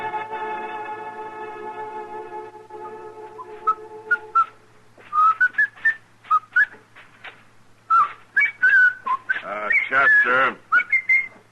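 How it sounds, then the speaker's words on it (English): A man whistles a tune with sustained, steady notes in the opening seconds, followed by melodic whistled phrases that come in short bursts, with someone speaking in between. "if you insist on whistling, would you mind doing it outside?"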